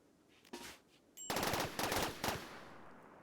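Gunfire from a RimWorld video game scene, where a cat is shot: a single pop followed by a close, loud burst of rapid machine-gun shots, then silence.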